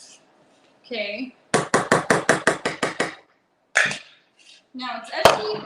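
A pan is banged down on a hard counter about ten times in a quick, even rhythm, loud and close, with a few scattered knocks after.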